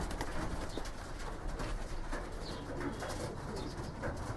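Racing pigeons coo faintly inside a loft, with soft repeated calls over steady background noise.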